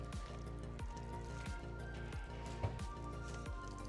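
Red Bull Wash and Shine foam sprays onto a car with a steady hissing, wet spatter marked by regular rhythmic pulses from the sprayer, close and constant.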